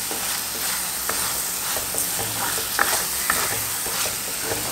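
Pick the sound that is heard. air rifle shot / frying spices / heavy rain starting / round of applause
frying spices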